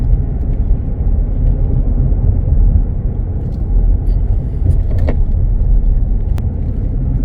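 A car cruises along a rural back country road in Virginia's hill country, heard from inside as a loud, steady low engine and tyre rumble that continues evenly throughout with no talking.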